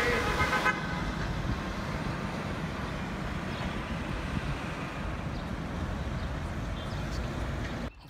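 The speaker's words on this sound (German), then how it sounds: "Tja, Verkehrsstau wie in jeder größeren Stadt." Dense city traffic jam in Ulaanbaatar, a steady wash of engine and road rumble with horns honking near the start, continuous and fairly loud until it cuts off at the end.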